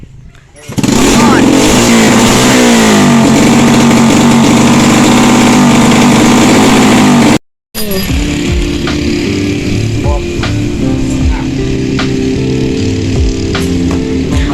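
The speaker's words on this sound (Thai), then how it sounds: "ตอนนี้เพ่นกำลังเบิ้งรถอยู่เนาะ" A Honda Dream motorcycle engine revs hard and loud up close for several seconds, breaks off briefly, then idles and blips unevenly, with a voice talking over it.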